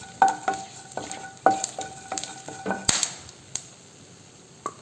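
Sliced onions frying in hot coconut oil with spices, a steady soft sizzle under repeated spoon taps and scrapes against the pan at an uneven rhythm, close by with no talk.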